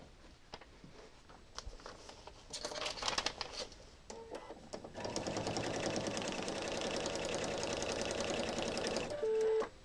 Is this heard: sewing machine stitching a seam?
yes